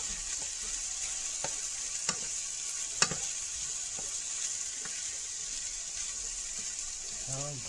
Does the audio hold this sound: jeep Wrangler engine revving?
no